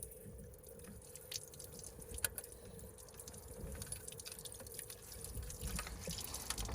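Coolant drips from a car's thermostat housing during a repair, faint irregular splats and trickles against a quiet hiss, soft and close with no talking.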